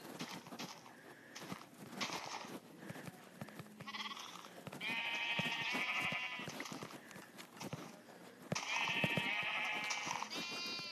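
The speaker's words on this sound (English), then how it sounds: "I'm gonna kill the sheep right here." Sheep bleat repeatedly in short nasal bursts in Minecraft Pocket Edition, over a busy layer of game sound effects and clicks, fairly close and loud.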